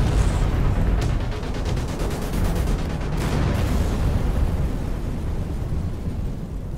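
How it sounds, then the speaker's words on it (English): Nuclear detonation effects in a sci-fi audio drama: a sustained, loud, rumbling blast roar with rolling low-end energy and a few crackling bursts, continuing without letup. "Two more nuclear detonations put an end to that."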